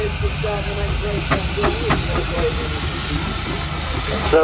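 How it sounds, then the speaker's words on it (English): A steam engine rolls into the arena at the Cheshire steam fair, giving off a loud, continuous hiss with a low mechanical rumble and a few faint clanks beneath it. "we've got the first engine into the arena, and there's one or two more behind"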